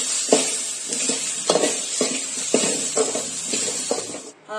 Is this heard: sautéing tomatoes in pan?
yes